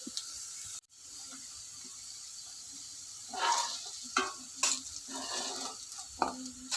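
Moong dal frying in oil in a pan gives a quiet, steady sizzle, with scraping stirs and clinks rising in short bursts during the second half.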